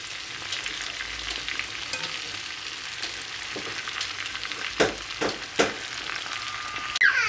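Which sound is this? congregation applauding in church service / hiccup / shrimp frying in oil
shrimp frying in oil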